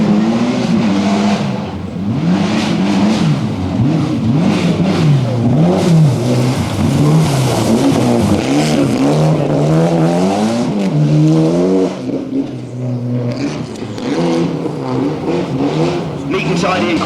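A Mitsubishi Lancer rally car at Weston Park on stage 2 of the 1993 Network Q RAC Rally revs hard, its engine note rising and falling through gear changes, loud and close, while a commentator talks over it.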